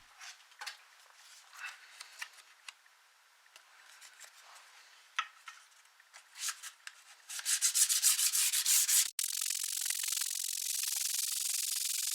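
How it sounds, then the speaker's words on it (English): Tissue paper rubbed back and forth over freshly polished guitar frets on an old rescued guitar, soft scratchy swishes that grow louder and denser toward the end, close and alone without talk. "Now we're back to the tissue test. Few rubs here, and you see that the tissue is not torn up at all."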